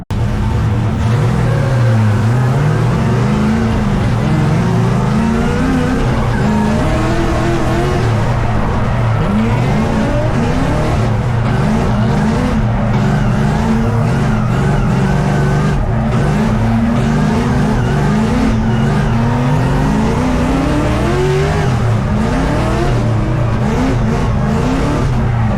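LS-swapped BMW E82 drift car lapping a track, a loud, continuous V8 roar that rises and falls as it revs through the corners, with tire squeal mixed in, heard close up and with no talking.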